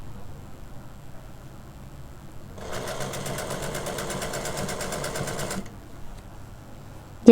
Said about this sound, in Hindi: इस चैन के साथ साथ किनारे किनारे पे इस तरह से सिलाई लगा लेनी है पहले